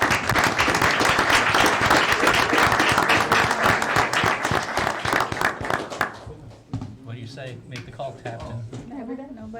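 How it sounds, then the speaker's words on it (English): Dense applause fills a council meeting room for about six seconds, loud and sustained, then fades into scattered claps as voices begin talking. "Let's give them a round of applause."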